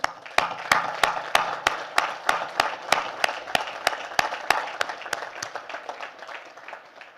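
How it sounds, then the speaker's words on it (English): Crowd applause at the West Point graduation ceremony, with sharp close claps standing out over a broad wash of clapping that thins toward the end. "Let's have a round of applause for them."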